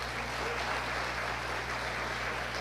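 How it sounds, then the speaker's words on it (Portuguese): A church congregation applauds during a service, a dense, steady wash of many hands clapping at once that holds at an even level throughout, with no voices rising above it. "Pode aplaudir ao Senhor."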